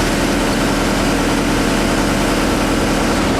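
Diesel engine of a 612T trommel screener running steadily while its conveyor section is raised, a loud, dense, unbroken rumble heard close by with no talk.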